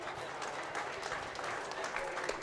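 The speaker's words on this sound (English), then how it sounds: "Let's give these kids a nice round of applause." Steady audience applause for the kids at a county fair beef show in Las Animas County, dense continuous clapping from a crowd filling the whole stretch at even loudness.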